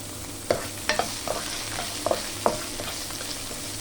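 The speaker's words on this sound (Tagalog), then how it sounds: "Isa-gisa lang natin guys. Ayan. Next, ilagay na rin natin yung bawang." Garlic and onion sautéing in a pan, a steady sizzle broken by repeated sharp spatula scrapes and taps as the pan is stirred, with no voices.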